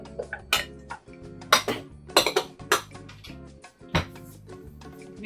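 Oats, strawberries and chocolate chips are mixed in a bowl, giving a run of sharp clinks, taps and scrapes of a utensil against the bowl at an uneven rhythm, close and fairly loud, with no talking.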